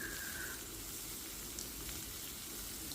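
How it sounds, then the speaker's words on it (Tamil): Long-cut okra and onion sautéing in oil with cumin make a soft, continuous, faint sizzle and crackle with no voices. "வெண்டைக்காய் 1/4 கிலோவை நல்லா நீளமாக கட் பண்ணிவிட்டு எண்ணெயில் ஒரு பக்கம் வதக்கிட்டுருக்கோம்."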